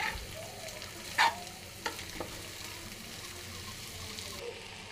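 Fish roe and potato fry in a pan with a soft, steady sizzle, broken by one sharper clink and a couple of light utensil taps, all fairly quiet.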